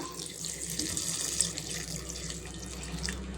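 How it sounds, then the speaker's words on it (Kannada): Water poured into a blender jar with ash gourd, gooseberry and ginger for juice, a soft continuous splashing trickle, faint and close, without talk. "ಹಾಗೆ ಸ್ವಲ್ಪ ನೀರು ಹಾಕೊಳ್ಳೋಣ"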